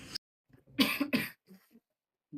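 A person coughs two or three times in quick harsh bursts, followed by a few softer throaty sounds and breaths.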